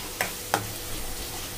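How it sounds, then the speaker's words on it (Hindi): Masala cooks in oil in a pan as a steady sizzle, with two sharp scraping taps from a stirring spoon near the start. "थोड़ा मसाला अपना पकने लग गया है, देखो ऑयल भी छोड़ रहा है।"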